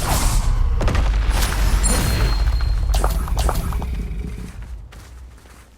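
A Bombarda blasting spell exploding in Hogwarts Legacy combat, a loud deep boom with crashing debris and scattered impacts, the roar rolling on and fading away over several seconds, with no talking.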